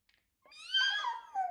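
A person's voice imitates a cat meow, one drawn-out rising and falling mew with a short second tail, close and clear, alone after a tiny click.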